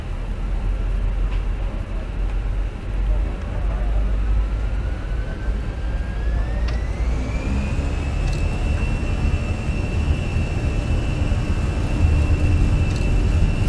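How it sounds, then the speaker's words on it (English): Fenix A320 airliner jet engines in Microsoft Flight Simulator spooling up to takeoff thrust, a loud steady roar with a whine rising in pitch and then holding, and no talking. "Takeoff thrust is set."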